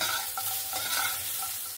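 Soft drumstick stalks frying in a pan of oil while being stirred, giving a steady close sizzle with light scraping strokes throughout, alone with no talk.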